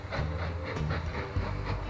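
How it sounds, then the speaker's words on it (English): A new, heavier train rolls along the rails in the Mashinky railway game, giving a steady, close rumble with rhythmic clatter and a hiss. "There goes our new train."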